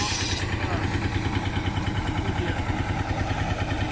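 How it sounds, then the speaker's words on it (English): At the Cotswold Show 2019, a diesel tractor driving a wood saw and nearby stationary engines run steadily, a close, rhythmic chugging with a fast regular pulse throughout. "we've got two saws on the go, one powered by a tractor, a diesel powered tractor there"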